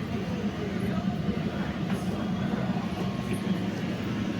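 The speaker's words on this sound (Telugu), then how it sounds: "ఇది గో ట్రైన్ అనమాట." A GO commuter train gives off a steady low rumble and rolling drone throughout, heard from nearby without distinct horn or clatter.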